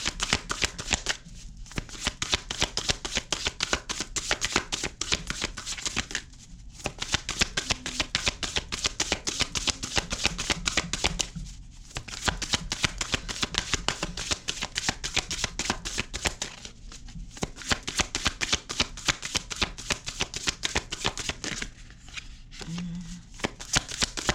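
A tarot card deck being shuffled, with rapid dense riffling bursts repeating in long runs separated by brief pauses, close and loud, while someone talks over it.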